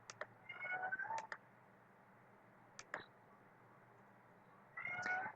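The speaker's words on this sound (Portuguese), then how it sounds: "meu gato tá participando da aula" A house cat meows several times over steady low background hum, with a cluster of cries at the start, a short call near the middle and another meow at the end, fairly faint and close.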